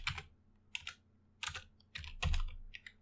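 Code being typed on a computer keyboard in short clustered bursts of crisp, close clicks separated by brief pauses, a heavier key thump near the end.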